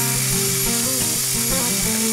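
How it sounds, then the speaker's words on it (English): A concrete countertop being polished with a 50 grit pad on a power polisher, giving a loud, continuous, close grinding whine with wavering pitch. "Just starting the beginning of the polishing process"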